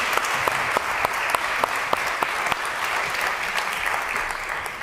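Audience at the Tallinn Digital Summit applauding a panel, with steady crowd clapping and sharper individual claps standing out, fading slightly toward the end.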